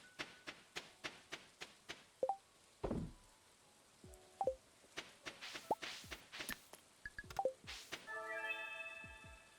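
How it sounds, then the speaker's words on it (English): Rain falling on the farm in a farming video game, with light rhythmic ticking and footstep-like taps, chime-like game effects and a brief soft whoosh, all quiet and without talk. "It's raining on the farm."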